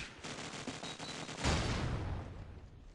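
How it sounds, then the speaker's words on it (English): MP5 submachine gun fire in Call of Duty 4 online match, a quick run of rapid shots followed by a louder burst, fairly distant and low in level. "Starbuck now taking out Wabbit there with the MP5"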